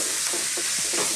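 Bacon stirred while frying in a pan, a close, continuous sizzle with soft scraping strokes of the utensil.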